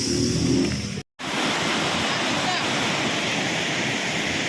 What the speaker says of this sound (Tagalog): Ang lakas ng baha.